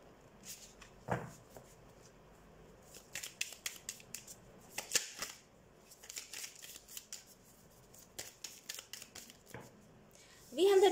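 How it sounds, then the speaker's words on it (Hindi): Tarot cards handled at close range, with soft, quiet riffling and brushing shuffles and sharper snaps as cards are drawn and laid down, scattered irregularly through a faint background. "मैं सारे कार्ड्स निकाल लेती हूँ"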